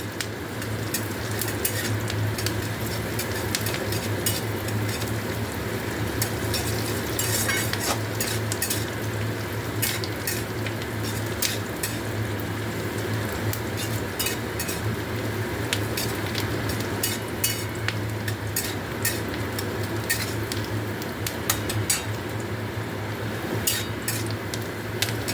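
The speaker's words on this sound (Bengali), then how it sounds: "আলুটা ভেজে নেওয়ার পর পেঁয়াজগুলো ভাজছি" Onions frying in a pan in oil left after frying potatoes, giving a steady soft sizzle throughout with repeated scrapes and clinks of a spoon stirring against the pan.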